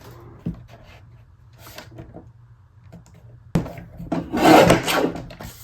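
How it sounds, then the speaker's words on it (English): A guillotine paper trimmer slices through cardstock, with a sharp knock, then a sudden louder thud and a brief dry scraping crunch of the blade passing through, close up amid quiet handling sounds. "I'm going to cut this off to use as an embellishment. And since this guillotine trimmer is self-sharpening, hopefully it won't hurt it too bad."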